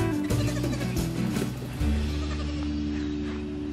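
A dairy goat bleats close and loud, one long wavering call that cuts off and then drags on into a fading, strained bleat.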